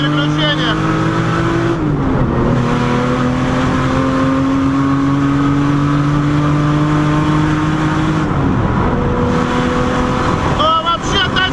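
A tuned Nissan Skyline R34 with a turbo set to low boost accelerates hard from inside the cabin. The engine note climbs steadily, then drops at two gear shifts with a brief turbo-lag dip before it pulls again, loud and close.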